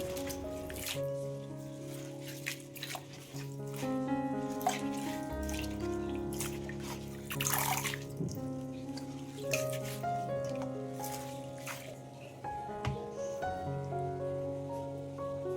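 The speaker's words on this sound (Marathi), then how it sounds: "इथे आता आपली सगळी जी मेथी आहे ही स्वच्छ पाण्यामध्ये धुवून झालेली आहे" Fenugreek leaves being rinsed under running tap water in a home kitchen. A continuous splashing stream with drips and wet handling of the leaves runs close and clear, with no talk over it.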